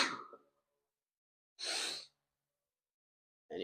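A sneeze bursts out sharply around midway, isolated and close, with a short breathy sound at the start and another breath cut off at the very end.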